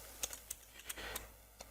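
Sparse, faint keystrokes on a computer keyboard while HTML text is entered, a handful of light clicks spread unevenly with quiet gaps between them and no voices.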